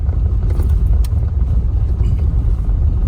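A BMW xDrive car on brand-new tires drives over snow and ice, giving a steady loud low rumble of engine and road noise from inside the cabin, with no talk.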